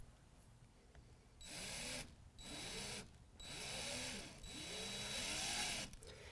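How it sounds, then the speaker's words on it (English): A power drill bores a small pilot hole through steel tubing for a DECKED Core Trax 1000 tie-down track install, running in four close, steady bursts separated by short pauses, each with whining bit chatter. "you are going to drill a small pilot hole in the first hole."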